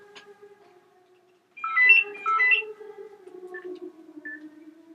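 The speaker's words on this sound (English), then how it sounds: "the phone is ringing" A phone rings with a short electronic melodic tone, chirping twice after a quiet pause, fairly clear against a soft background hum.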